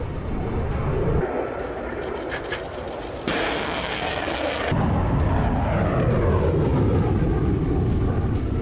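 Supersonic fighter jets fly during a large military war exercise, a loud sustained roar of engine noise with a brief harsher, brighter burst in the middle, filling the whole stretch without any talk.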